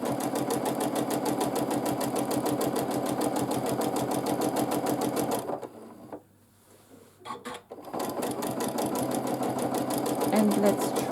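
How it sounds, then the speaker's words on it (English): A sewing machine free-motion quilting lines runs in a fast, steady mechanical chatter up close. It pauses briefly at mid-clip and then resumes, and a voice speaks during the run. "So let's quilt few lines more."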